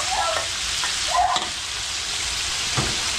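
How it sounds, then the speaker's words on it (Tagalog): Garlic and onion sautéing in a pan, a steady broadband sizzle throughout with a few brief stirring scrapes, close and moderately loud, no talk. "magigisa na tayo ng bawang sibuyas"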